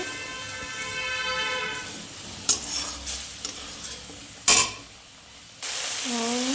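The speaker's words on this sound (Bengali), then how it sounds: "মশলাটা প্রায় কষানোর মধ্যেই, আর একটু কষাতে হবে।" Poppy seed spice paste for shrimp frying in a pan, a close sizzling hiss broken by a few loud scrapes and knocks of stirring, with a humming tone at the start and a brief tonal sound at the end.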